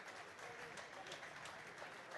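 At a squash match at the Ireland Worlds, fans in the arena applaud, a faint and steady wash of clapping with a voice talking over it.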